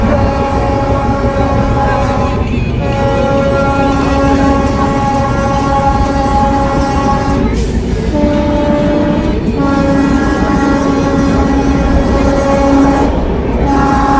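Inside a general coach of the Shiv Ganga Express on Indian Railways, a loud constant rumble and rattle of the moving train carries on throughout, with sustained horn tones sounding over it.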